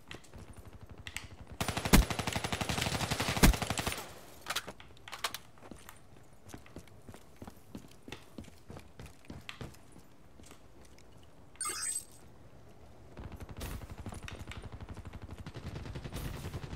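Rapid automatic gunfire in Call of Duty: Black Ops 3, a dense burst of shots followed by scattered single reports and a second sustained volley, with footsteps between.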